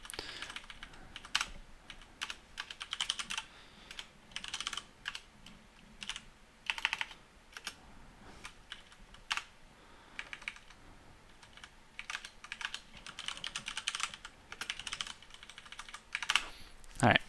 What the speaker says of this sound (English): So I'm just going to type them in really quick here.